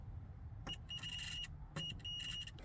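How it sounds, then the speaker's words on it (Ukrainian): A cheap electrical tester switched to its speaker or continuity mode gives two short high-pitched beeps over a faint background hum, used while checking a Tesla airbag squib. "Беремо ось такий звичайний дешевий тестер і ставимо його ось сюди в положення динаміка, щоб він пищав."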